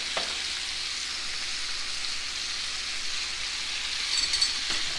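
Garlic sizzles steadily in olive oil in a pan alongside seared chicken breasts, a close, even hiss with a few faint clinks toward the end and no talk.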